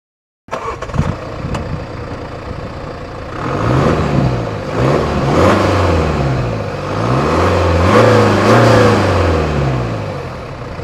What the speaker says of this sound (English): I'm stuck in heavy traffic, rush hour around Munich.